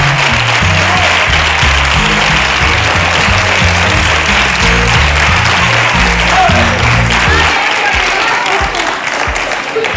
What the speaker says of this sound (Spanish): ese aplauso es para ti